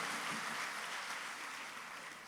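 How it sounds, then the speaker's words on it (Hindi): Audience applause at a live Hindi poetry recitation event, a steady wash of many hands clapping from fairly distant, quiet and even throughout. "एक बार तालियां बजा करके माहौल दे दीजिएगा।"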